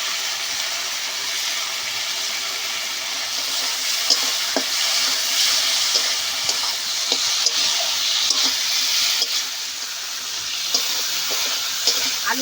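Fried potatoes drop into a spiced masala that has been cooked down in oil until the oil separates, for a cabbage and prawn dish. A steady, close sizzle runs throughout with small clicks of stirring, and no one talks.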